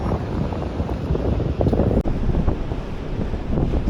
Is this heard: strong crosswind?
yes